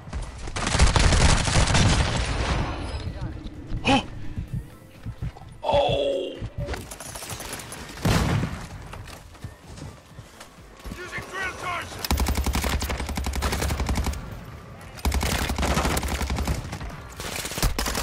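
ISO Hemlock rifle gunfire in the Warzone 2 shooter: long stretches of rapid automatic fire in loud dense bursts separated by gaps, with voices talking between the shooting.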